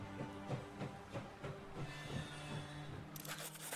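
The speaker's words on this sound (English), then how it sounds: "let's just keep the train moving a little bit" A train rumbles along in Last Train Home, with a steady low mechanical drone and faint rhythmic clacking. A hiss of steam breaks in near the end. It stays fairly quiet, with no talk.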